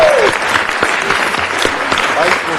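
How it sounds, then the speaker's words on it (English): An audience at a city council meeting breaks into sustained applause, loud many-handed clapping with some crowd noise and voices mixed in underneath. "Let's give a final round of applause to City Year."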